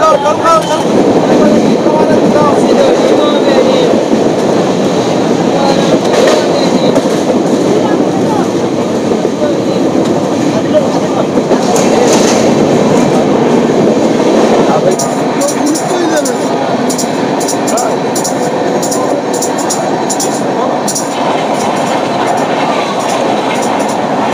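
The 15959 Kamrup Express rumbles along the rails from Kolkata, heard from inside as a loud continuous roar with rhythmic clickety-clack of wheels over joints and a faint squeal, people talking now and then.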